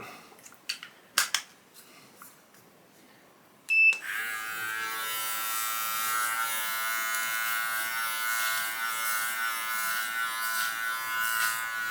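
An electric beard trimmer set to a 15 mm guard starts after a few sharp clicks and handling taps, then buzzes steadily and close for the remaining eight seconds while shaping a full beard.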